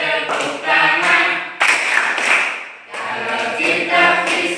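A group in a physics class claps hands in short rhythmic bursts while singing a chant together, the claps sitting between loud, close sung phrases.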